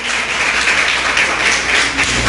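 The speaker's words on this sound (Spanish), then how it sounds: "ustedes, mujeres, deberían de darle un aplauso a los hombres que están aquí" A church congregation claps in loud, dense, unbroken applause that carries evenly through the whole moment.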